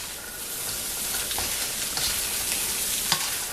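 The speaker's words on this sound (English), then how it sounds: "So I'm just going to stir this a little bit," Vegetable fried rice sizzles steadily in a hot pan while being stir-fried, with a constant frying hiss and a few soft scraping and clinking stirs close by.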